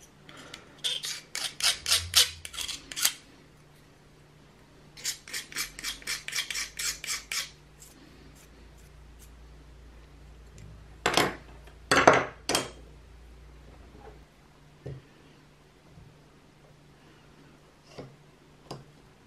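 Glue being scraped off the edge of a B&G Neo3/PDR planar tweeter, heard as close, dry rasping strokes in quick rhythmic bursts, two long runs followed by a few louder, harsher scrapes and then sparse faint ticks, with no talking.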